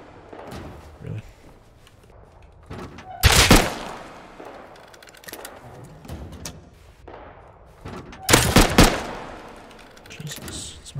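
Two sharp, loud shots from an Eoka pistol in the video game Rust ring out several seconds apart over quieter background activity, with a person talking in between.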